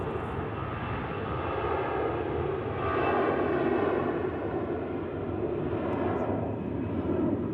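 Cirrus SR22 propeller plane passing at Zurich Airport in crosswinds, a continuous broad engine drone that swells slightly toward the middle, heard from a distance.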